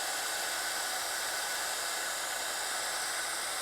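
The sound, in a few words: heat gun used for heat embossing on cardstock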